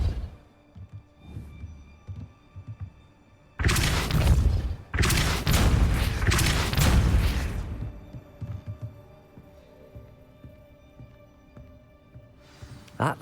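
The Depulso spell cast in Hogwarts Legacy, a heavy booming burst of force with thudding impacts lasting a few seconds, loud and close over a low ambient game hum, then fading back to quiet.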